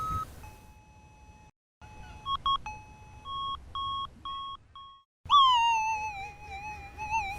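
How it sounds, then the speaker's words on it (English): Minelab SDC 2300 gold detector running its noise cancel routine: clean electronic beeps and short bleeps in a stuttering pattern, pausing briefly, then ending in a loud wavering tone, heard alone. "Push noise cancel to eliminate external interference."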